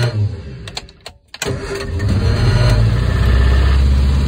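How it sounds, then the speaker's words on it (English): A Triumph Herald, sitting in neutral with the choke pulled out, cranks briefly with a few stuttering turns, then catches and settles into a loud, steady idle close by. "But, car started up"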